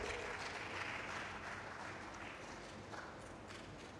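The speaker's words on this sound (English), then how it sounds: "Let's give him a round of applause" Audience applause rolls on steadily and evenly throughout at a conference event, a dense wash of many hands clapping at moderate distance with no talk over it.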